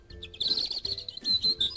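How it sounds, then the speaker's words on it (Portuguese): Small birds chirp and tweet in quick, bright bursts, close and fairly clear over a quiet background in a brief cartoon scene. "E ouça o canto bonito dos passarinhos!"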